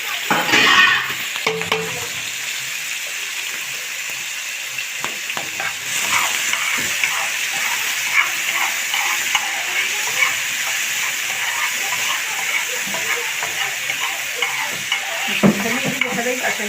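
Shrimp frying with onion in a hot pan, a continuous crackling sizzle with occasional stirring scrapes, close and steady from start to finish.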